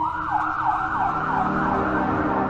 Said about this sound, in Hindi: शीतल ने जल्दी से एम्बुलेंस को फोन किया